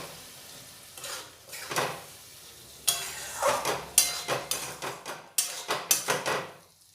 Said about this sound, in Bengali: দিয়ে এই আলু, শিম আর মশলা খুব ভালোভাবে কষিয়ে নেব।